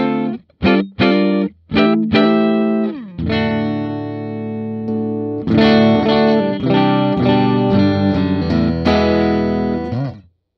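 A 2022 Epiphone Jerry Cantrell Les Paul Prophecy electric guitar plays bright, punchy clean tones through effects: a few short plucked chords, then sustained ringing strummed chords that fade out, loud and alone.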